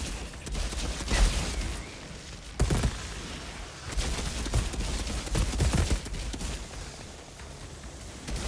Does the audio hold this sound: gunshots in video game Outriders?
yes